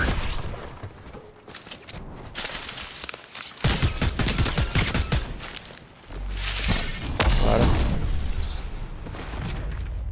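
Heavy gunfire in Fortnite: dense rattling automatic bursts and booming shots, loud and close, with brief lulls between volleys and some shattering impacts.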